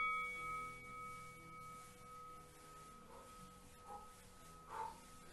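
A workout timer bell gives a few soft dings, the last ringing a little louder, over a quiet room with faint steady electronic tones.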